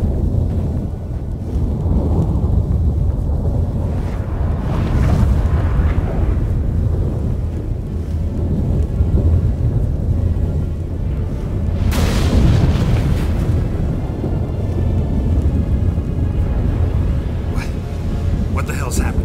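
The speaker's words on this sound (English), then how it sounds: "That a storm?" Rumbling thunder and gusting wind of a sudden storm in The Witcher video game, a loud continuous roar with heavy booming swells, one sharp crack near the middle, under voices talking.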